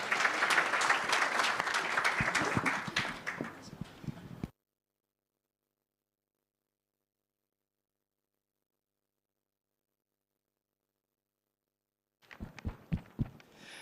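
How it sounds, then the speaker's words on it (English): Audience applause for an aviation panel at Aviation Pitso 2025: dense, steady clapping fills the room for about four seconds, cuts to silence, then a few scattered claps return near the end. "Can we give them a round of applause?"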